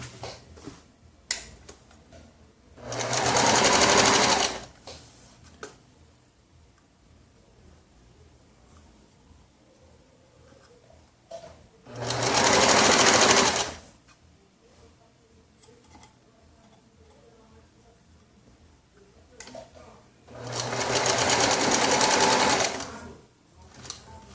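An overlock sewing machine stitches a baby look T-shirt in three loud, steady runs of a few seconds each, separated by quiet pauses with faint handling noises.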